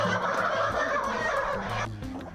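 Chickens carried into a newly disinfected poultry house on a farm make a dense, loud, close chorus of clucking and squawking that stops abruptly near the end.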